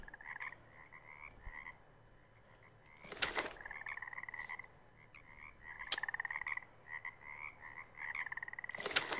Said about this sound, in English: Yeah, this sounds like there's frogs right there too